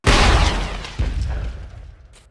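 Synthesized video game rocket launcher effect made from library sounds and synthesizers: a loud booming launch, then a second heavy impact about a second later, each trailing off in a long rumbling tail.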